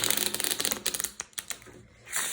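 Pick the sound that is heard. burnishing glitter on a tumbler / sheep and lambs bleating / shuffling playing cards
shuffling playing cards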